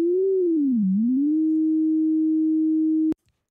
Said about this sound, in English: If we use just one number, it will produce a sine wave,